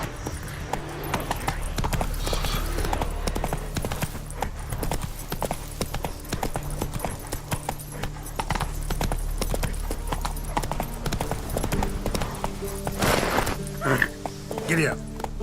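A horse in The Witcher 3 gallops in a rapid, steady clip-clop of hooves that continues throughout, with a voice speaking over it.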